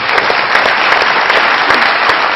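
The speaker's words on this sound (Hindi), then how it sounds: "बहुत सारी तालियां साहब के लिए।" A studio audience at a Pakistani comedy talk show bursts into applause, a dense, steady wash of clapping that stays loud and even throughout with no voices over it.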